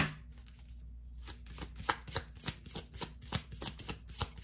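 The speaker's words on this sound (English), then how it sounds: "Let's pull a few from the Alice in Wonderland deck." Tarot cards from an Alice in Wonderland deck being shuffled and handled, a quick series of soft, crisp riffling taps in an irregular rhythm, close and quiet, with no talking.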